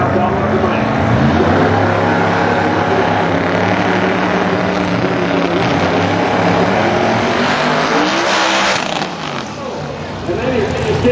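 A pro drag race car roars down the racetrack in a loud, sustained engine blast that stays near and intense before fading slightly at the end.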